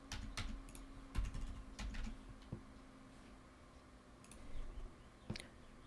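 Someone types on a computer keyboard during a stock-market session, with scattered quiet clicks and keystroke bursts over a faint electrical hum and no voices.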